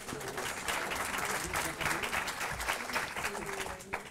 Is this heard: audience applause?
yes